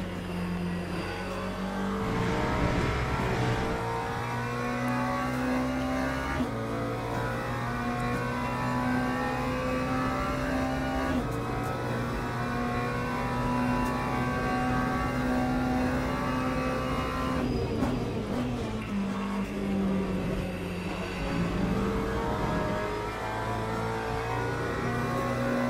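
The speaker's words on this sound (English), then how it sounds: "brake as hard as possible, then release while still going straight" A car laps a race track under hard braking, its engine droning steadily and loudly throughout, with the pitch shifting and dropping briefly near the end as it slows and the revs change.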